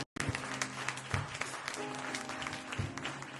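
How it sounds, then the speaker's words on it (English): A church congregation claps hands together during a worship service, dense and steady throughout, with a brief gap at the very start and a few voices mixed in. "people of God, clap your hands"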